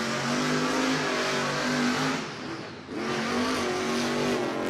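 Rage monster truck roaring through a race at Monster Jam in Orlando, its loud engine revving steadily with a brief dip midway before surging again, with crowd noise in the background.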